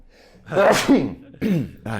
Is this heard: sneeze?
yes